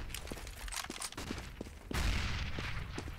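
Distant, muffled gunfire in a competitive Counter-Strike match on de_mirage, scattered pops and a louder cluster of shots, with a dense background wash of game ambience.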